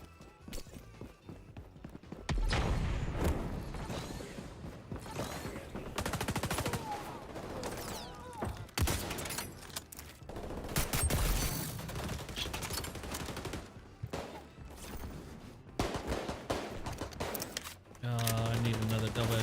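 Gunfire in the XDefiant shooter game comes as dense bursts of rapid shots and single cracks, nearly constant and loud, with a voice talking over the action.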